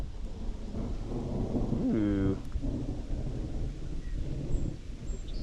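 Thunder rolls through a storm over a flooded creek at night during bowfishing, a low rumble under steady rain, with a brief exclamation from a voice in the middle.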